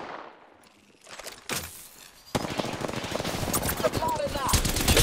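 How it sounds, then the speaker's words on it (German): Rapid gunfire in Apex Legends arena mode, sparse scattered shots at first, then a loud sustained burst of automatic fire crackling close by, with a faint in-game voice partly beneath it. "Ich werde beschossen, Freunde!"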